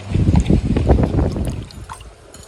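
Water is poured while mounting a cattleya orchid, a close burbling, splashing pour lasting about two seconds that tapers off quietly at the end.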